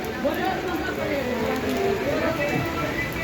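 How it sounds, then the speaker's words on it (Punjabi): Steady heavy rain hisses across the whole clip, with a voice talking over it. "ਮੀਂਹ ਬਹੁਤ ਪੈ ਰਿਹਾ"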